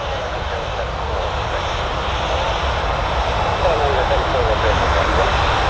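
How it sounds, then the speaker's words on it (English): A KLM Boeing 737-700 jet airliner moving at Manchester Airport, its engine roar steady, loud and broadband throughout, with no pauses. "And next, close behind, last certainly not least, is the Boeing 737-700 of the KLM."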